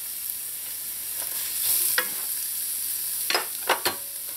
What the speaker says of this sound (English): just let this cook in here for a little because carrots, they take the longest to cook